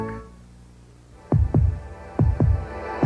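A heartbeat sound effect from a 1986 Chevrolet television commercial: deep, booming thumps in two lub-dub pairs, loud and close, following a low steady hum.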